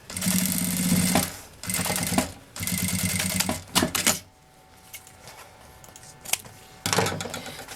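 A sewing machine stitches bagum trim onto a fabric box in several loud, fast, whirring bursts separated by short pauses, with quiet handling noise between runs.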